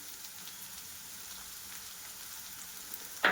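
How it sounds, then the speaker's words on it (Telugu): Amaranth leaves frying in a pan, a faint, steady hiss of sizzling throughout, ending in a sudden brief louder clatter. "మంచిగా ఫ్రై అయిందనమాట తోటకూర"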